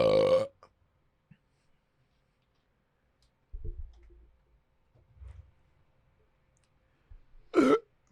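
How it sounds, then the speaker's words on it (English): Loud burps from people who have just chugged soda, a couple of short gulping croaks spaced several seconds apart with quiet gaps and soft clicks between them, close to the mic. "let's chug some pop right now and then do our best burps"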